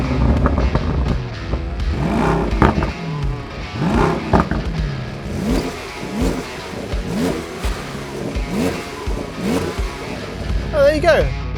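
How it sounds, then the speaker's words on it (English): Powerful sports cars, a Mercedes-AMG GT, BMW M8 Competition, Audi R8 and Porsche 911 Turbo, rev their engines in repeated rising and falling bursts, loud and close, with a voice speaking among the revs. "what do they sound like when you're revving?"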